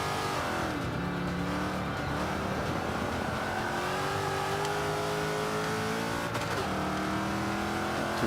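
A Range Rover's engine revs hard and steadily while drifting on the Indy GP circuit in Forza 5, with a rising and falling drone and faint tire squeal, loud and continuous with no talk.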